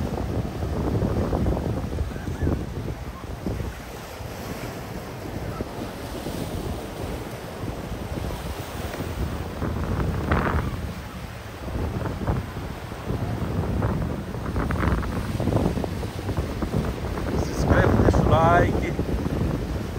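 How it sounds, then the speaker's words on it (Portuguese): Surf and gusting wind at Cabeçudas Beach in Itajaí, Santa Catarina, with waves washing in repeatedly under heavy rumbling wind buffeting the microphone, loud and continuous. "Isso aqui é a Praia da Cabeçudas."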